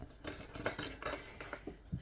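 A metal fork clinks and taps against kitchenware in a few quick, close, bright bursts, with no talking.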